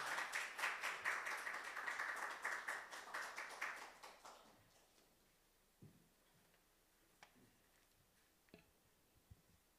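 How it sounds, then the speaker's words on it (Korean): A church congregation claps in welcome during a Sunday service, a few seconds of moderate applause with distinct individual claps that fade out, followed by quiet with occasional taps and small knocks. "박수로 환영합시다"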